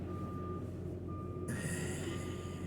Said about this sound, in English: Let's hear the truck beeping.